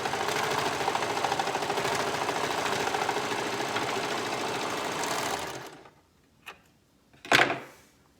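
A sewing machine stitches all three fabric layers of a sleeve cuff with a steady continuous whir for about five seconds. It then stops, and two short clicks and knocks follow, like fabric being handled or the machine being adjusted.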